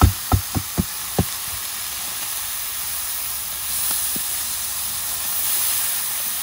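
Finely chopped potatoes with turmeric fry in a pan in a hot kitchen, giving a steady, even hiss that runs throughout, with a few sharp utensil clinks near the start.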